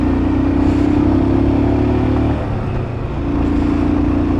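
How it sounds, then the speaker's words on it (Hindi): Motorcycle engine running steadily on a mountain road between Manali and Jispa, a loud close drone with a brief dip in the middle before it settles back to the same even hum; no talk. "अपनी बाइक की आवाज़ सुनने में जो मज़ा है"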